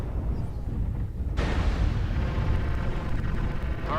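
A missile explosion in the mech combat game Mechwarrior Online: a sudden heavy blast lands partway through, then a broad rumbling roar that lingers over continuous low battle noise.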